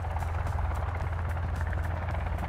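A helicopter circles in the survival video game Sons of the Forest, its steady rotor thrum and low engine drone continuous and fairly loud, with no speech over it.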